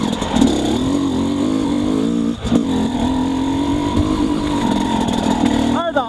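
An enduro motorcycle fitted with a Keihin PWK Airstriker carburettor holds a loud, close engine drone in second gear, rising and falling in pitch as it pulls without the clutch and ending with a sharp blip of revs.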